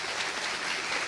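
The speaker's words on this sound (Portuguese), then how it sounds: "Eu peço palmas para a EJUG e para o Laboratório de Inovação" An audience at an innovation-week ceremony in a courtroom setting claps together, a dense, even patter of many hands held at a steady level throughout.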